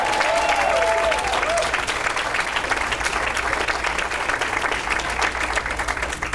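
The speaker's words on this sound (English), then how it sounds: "let's have one more round of applause" Audience at a 2015 celebration dinner breaking into sustained applause, dense loud clapping filling the whole stretch with a few brief cheers near the start.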